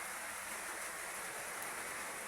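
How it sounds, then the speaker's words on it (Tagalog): Steady rain falling continuously, a soft even hiss with no breaks, fairly quiet and distant. "tuloy-tuloy po ang pag-ulan."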